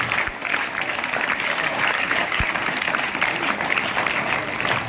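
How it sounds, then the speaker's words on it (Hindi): Audience at a school award ceremony for class 10 and 12 students claps loudly and continuously, a dense sustained wash of applause with a couple of sharp thumps. "तालियां जोरदार बजाते रहो।"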